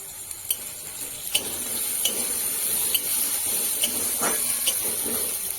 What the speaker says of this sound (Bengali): এভাবে নেড়ে চেড়ে আলুগুলোকে ভাজা ভাজা করে নিতে হবে